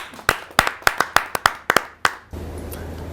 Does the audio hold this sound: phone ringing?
no